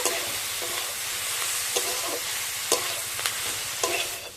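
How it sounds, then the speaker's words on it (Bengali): Boiled potato and cauliflower filling with chopped coriander leaves being mixed in a hot pan, a gentle sizzle under rhythmic spatula scrapes and taps repeating about every half second. "এবার আমি খুব ভালো করে মিশিয়ে নেব"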